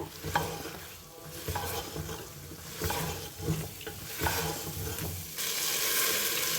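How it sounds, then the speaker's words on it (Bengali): Soya chunks stirred and fried with spices in a pan, giving a steady close sizzle broken by repeated scraping strokes of a spoon about once a second, with the frying hiss growing louder near the end. "এর মধ্যে আমি সয়াবিনটাকেও অ্যাড করে দিলাম খুব ভালোভাবে আবারও এটাকে কষিয়ে নেব"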